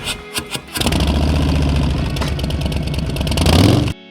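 A motorcycle on a Death Valley road trip sputters with a few short bursts, then catches and revs into a sustained close, loud roar that swells near the end before cutting off abruptly.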